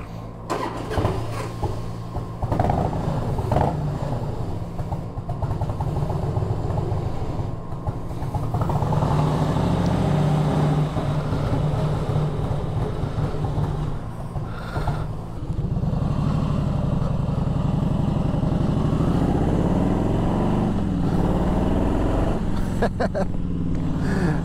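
A Harley-Davidson Twin motorcycle with a Thorcat exhaust starts and idles with a deep, loud, lumpy rumble, rising in a couple of throttle blips; someone speaks briefly over the engine.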